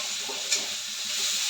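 Sliced onions frying in a wok give off a steady, close sizzling hiss, with a couple of faint clinks of stirring breaking through the constant crackle.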